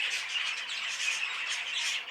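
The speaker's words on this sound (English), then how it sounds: "every single bird seems to be full of life and full of chatter" Dense, continuous chatter of many birds packed in a breeding shed, a loud bright wall of overlapping squawks and chirps with no pauses and no voices.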